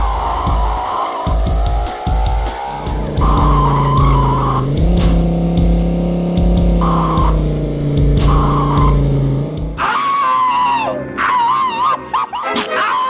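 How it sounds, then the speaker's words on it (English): Cars in a PlayStation racing video game screech their tires in repeated loud squeals over engine drone, several long skids in sequence before a higher, wavering squeal near the end. "The tire screeches have been made even louder in the full version"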